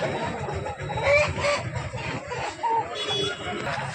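Country roosters and hens at Gokavaram's weekly market cluck and squawk steadily, with short crowing calls, all close over a busy hum of crowd noise.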